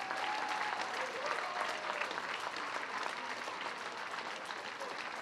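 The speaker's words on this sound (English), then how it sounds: "you're going to give these two a round of applause" Crowd at a UKFC 25 fight event applauds two fighters, a steady, dense burst of clapping held at an even level throughout, with a faint tone and murmuring voices mixed in.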